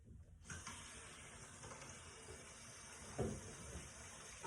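Water runs steadily from a kitchen tap into a sink, a continuous close hiss with a brief louder splash partway through, no voices.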